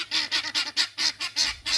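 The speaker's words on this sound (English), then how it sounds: "The guinea fowl," Guinea fowl in a barnyard at night calling in a rapid, regular series of harsh honking notes, about eight in under two seconds, fairly close and with no talk.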